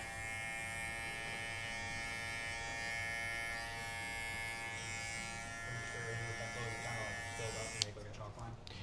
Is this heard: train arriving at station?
no